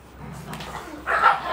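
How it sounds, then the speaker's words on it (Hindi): A pet dog barks a couple of times indoors, a short yipping burst near the end over faint background noise. "ये पता क्यों भौंक रही है क्योंकि ब्राउनी घूम रही है ना इधर उधर"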